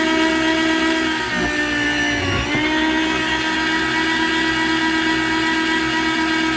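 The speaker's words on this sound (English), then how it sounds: "we should be able to just turn this on and make some slices" An electric meat slicer cuts partly frozen beef for jerky, its motor giving a loud, steady whirring hum that dips briefly as the blade passes through the meat, with no talking.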